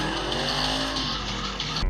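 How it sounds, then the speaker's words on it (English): Ford Mustang GT with its 5.0 V8 engine roaring loudly in a steady, rising drone, a hard-revving muscle car heard close with no talk. "That was a crazy sounding engine."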